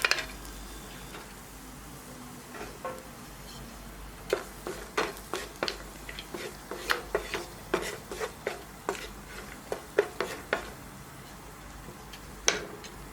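Chopped cashew nuts fry in hot ghee in a pan, a soft sizzle under repeated, irregular clinks and scrapes of a spoon stirring close by.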